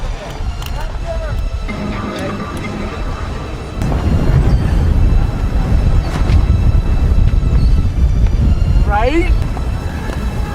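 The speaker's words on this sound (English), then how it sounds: "You are always at the mercy of dust storms with 70-mile-an-hour winds." Strong desert wind in a Burning Man dust storm roars and buffets the microphone continuously, growing louder partway through, with a voice speaking over it.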